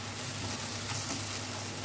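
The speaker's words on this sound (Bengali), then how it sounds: "দেখো পেঁয়াজটা খুব ভালো ভাজা হয়ে গেছে" Onions fry in a pan for a Bengali doi bhola kaliya, a steady, even sizzle that stays close and moderate in level throughout, with no talk.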